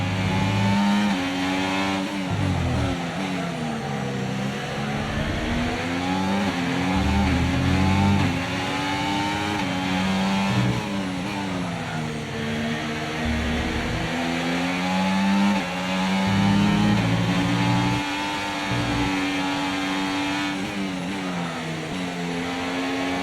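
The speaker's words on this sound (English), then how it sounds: "the cars certainly sound different on the onboard as well" Formula 1 car engine heard from the onboard camera in the F1 24 video game at the Qatar Grand Prix, screaming high revs that climb and drop repeatedly through gear changes and braking, loud and continuous with no talk.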